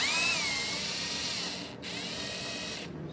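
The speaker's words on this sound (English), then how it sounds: "I'm gonna start using the drill on this guy" A power drill whirs steadily while loosening tight shock fasteners on an Arrma Kraton RC car, the motor tone holding constant with two brief stops, close and fairly loud with no talking.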